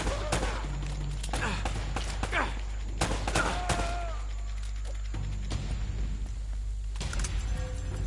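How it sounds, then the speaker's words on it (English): Enemy gunfire in Uncharted: Drake's Fortune, scattered shots and short bursts crackling through a busy game soundscape, with occasional sharper cracks standing out over a steady background hum. "They're shooting at you too"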